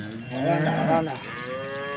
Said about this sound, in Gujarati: એક એક ગાય જવા દો